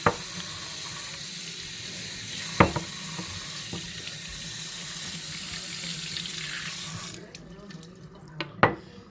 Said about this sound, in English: And rinse off the outside.